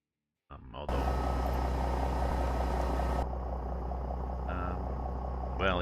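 Truck engine noise heard from inside the cab in American Truck Simulator, a loud continuous low hum that starts abruptly, steps down in level partway through and keeps droning steadily.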